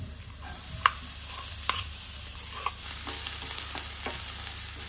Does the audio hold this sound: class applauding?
no